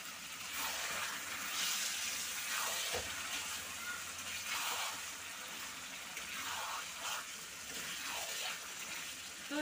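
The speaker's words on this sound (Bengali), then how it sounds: "মশলাটা বেশ কষানো হয়ে গেছে, আমি এবারে চিকেনগুলো দিয়ে দেব।" Chicken pieces hit a pan of well-fried spiced masala for a Bengali-style potato chicken curry, giving a steady close hiss of frying with surging waves of sizzle and a sharp clatter near the start.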